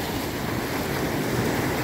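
Ocean surf rolls onto a warm Sri Lanka beach, a broad, steady wash of breaking waves mixed with wind rush, with no voices heard.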